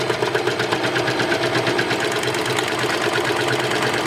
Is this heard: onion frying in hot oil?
no